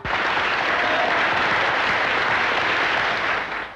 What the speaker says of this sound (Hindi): इन तालियों से, इस शोर से पता चलता है